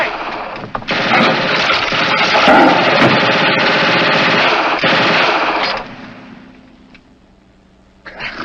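A machine gun fires in a 1950 Foreign Legion comedy film, a loud sustained burst of rapid shots lasting several seconds before fading to a quiet tail.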